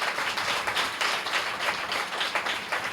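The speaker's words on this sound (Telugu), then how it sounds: "ఒక్కసారి సేవకుల్ని బట్టి చప్పట్లు కొడుతూ దేవుని గణపరచండి." A church congregation at a Telugu Christian meeting claps together in a steady burst of applause, many hands patting at a fairly quick, even pace, moderately quiet and with no talking over it.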